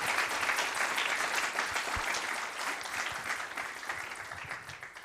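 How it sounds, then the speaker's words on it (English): A crowd at an evening talk gives a warm round of applause for a guest speaker, with steady, dense clapping that holds for several seconds at close range. "please give a warm round of applause to our guest tonight."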